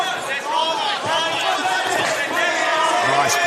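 Crowd noise at a boxing fight night, with supporters of the fighters making a steady, loud roar under an excited commentator who talks throughout.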